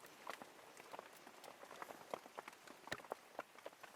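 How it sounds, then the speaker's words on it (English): Rain patters in a jungle, a steady scatter of soft drops striking leaves and surfaces at moderate distance, fairly faint with no voices over it. "it's still raining."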